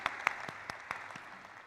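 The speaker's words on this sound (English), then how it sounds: "Let's give a huge round of applause for him" Audience applause at a stock exchange IPO listing ceremony for a share and stock brokerage, fairly faint and sparse, with a few distinct sharp claps standing out over a soft wash of clapping.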